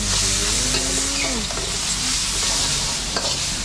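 Chongqing instant noodles stir-fried with kale and crispy pork at a roadside stall, a loud continuous sizzle with spatula scraping and stirring against the pan, no talk.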